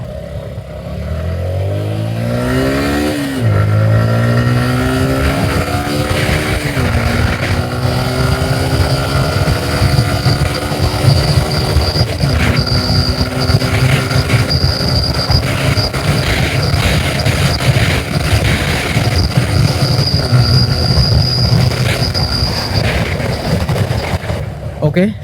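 A Suzuki Gixxer SF FI ABS motorcycle accelerates hard through several gears, engine pitch climbing and dropping at each shift, loud and close over steady wind rush for the whole run.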